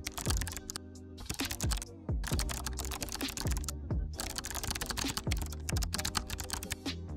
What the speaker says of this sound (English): We're going to start by typing a command in the terminal